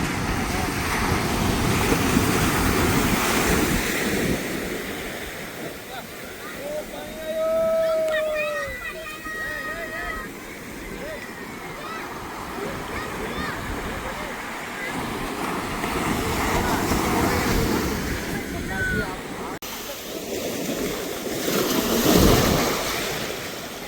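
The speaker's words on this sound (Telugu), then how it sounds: "అలలు అయితే మస్తు పెద్దగా వస్తున్నాయి" Big ocean waves roll onto a beach in long surging swells of wash and surf, with gusty wind noise on the microphone. A few brief voice-like tones are heard, but there are no clear words.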